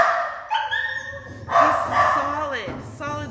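A black lab and basset hound mix in a kennel gives loud, close barks and yips with a whining edge, over people talking.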